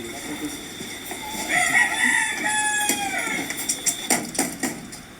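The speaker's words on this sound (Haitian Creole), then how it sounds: "Ça c'est coq là." A rooster crows once, drawn out and fairly near, above a noisy outdoor background with scattered voices and short knocks that follow the call.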